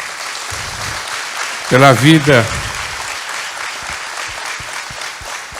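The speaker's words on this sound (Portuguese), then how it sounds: "Você pode aplaudir ao Senhor" Steady applause from a church congregation at a missionary conference fills the space throughout, with a short spoken or sung phrase rising briefly above the clapping.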